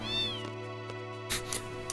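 A cat meows in Final Fantasy VIII, one clear drawn-out meow over a steady humming game music bed, followed by brighter chimes.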